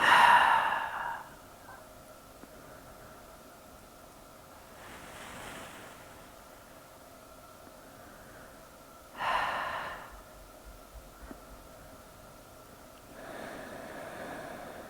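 Slow, deep breaths during a seated twisting yoga stretch for the upper back, each long exhale a soft, airy whoosh spaced several seconds apart in a quiet room.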